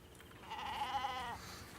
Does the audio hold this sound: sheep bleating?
yes